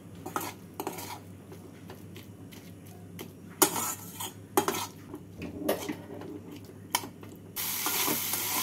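A mixture of paneer, prawn and chopped peanuts with tomato sauce being stirred and fried in a pan, with repeated scraping and clinking of a utensil against the metal over a low steady sizzle, ending in louder hissing.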